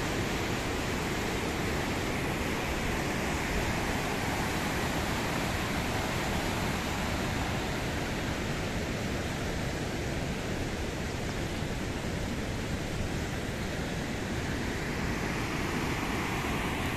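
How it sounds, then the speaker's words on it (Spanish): A swollen, heavily loaded river rushes beside a mountain road on the route to Antabamba, Apurímac, producing a dense, constant roar of water that never lets up. "Vean cómo está el río bien cargado."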